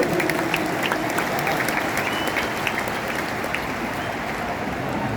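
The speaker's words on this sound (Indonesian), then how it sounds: "Tepuk tangan untuk semua yang memilih hadir di sini." Big crowd applause at a Jakarta political rally for a presidential candidate, a dense roar of clapping like heavy rain, sustained and loud throughout with a faint crowd murmur underneath.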